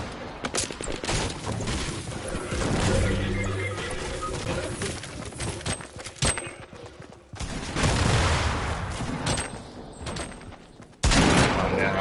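Scattered gunfire from a battle royale video game, bursts of shots crackling amid constant game noise and rustling, with a couple of sudden louder surges; no clear speech over it.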